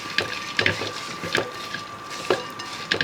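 Chana dal and black sesame seeds being stirred in a pan with a spoon, a few sharp scraping clinks spaced irregularly over a quiet background, with no voices.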